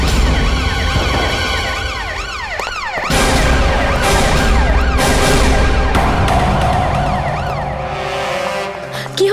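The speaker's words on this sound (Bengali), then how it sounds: "এ তো আমাদের ব্যুরো সাইরেন মনে হচ্ছে।" A loud bureau siren wails in rising and falling sweeps, several overlapping tones cycling rapidly and continuously, close and dominant throughout with no talk over it.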